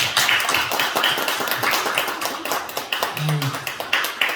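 A church congregation claps during a Sunday worship service, rhythmic hand claps running steadily through the room while a voice talks over them.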